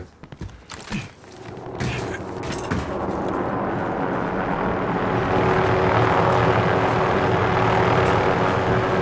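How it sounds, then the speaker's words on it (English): A helicopter flies overhead in the shooter game Warzone, its broad rumbling roar swelling from scattered thumps into a loud, sustained wash directly above. "I'm looking for that fucking chopper, dude, and it's like directly above me"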